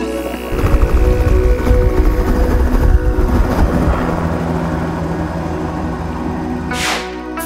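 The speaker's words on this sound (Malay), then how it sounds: "Rupa-rupanya mereka juga diberi peluang untuk menaiki helikopter." Helicopter rotor and engine roar close by during a group ride at a nature race event, a loud continuous chopping drone that holds steady throughout, with no voices.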